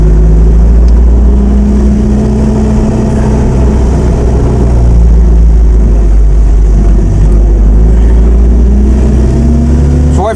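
A 1937 Austin 7 pre-war car being driven, its small engine droning loud and steady from close inside the cabin, with a low rumbling hum and slight shifts in pitch as it runs.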